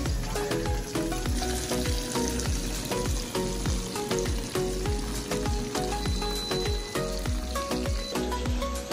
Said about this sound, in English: what you wanna do is kinda heat them up on the pan right there